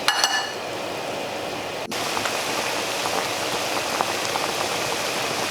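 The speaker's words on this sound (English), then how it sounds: "it's boiling up really well" Oxtail and brisket pho soup bubbling at a steady, vigorous boil in a pot: a dense, crackling simmer of popping bubbles that continues throughout, close by and with no voices.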